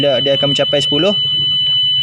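An MQ2 gas sensor air quality system in a school sounds a loud, steady high-pitched buzzer alarm, continuous and close, while a person speaks over its first second.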